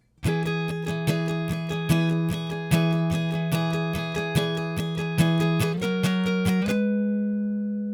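A song on guitar, a fast, even stream of bright picked notes over a ringing low note, close and solo, with a shift to a new chord near the end before letting ring.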